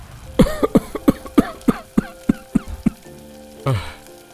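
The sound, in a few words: coughing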